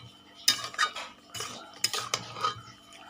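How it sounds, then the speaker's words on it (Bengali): Homemade fried lentil dumplings (bori) drop into a cooking pot of mixed vegetables, bringing a few sharp clinks and scrapes of a utensil against the metal pot, spaced over a few seconds. "আর এর মধ্যে দিয়ে দিচ্ছি ভেজে রাখা বড়িগুলো।"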